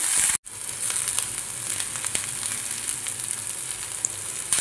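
Onion with a dried red chilli and whole cumin frying in oil in a pan, a steady close sizzle broken by a brief dropout near the start, no voices.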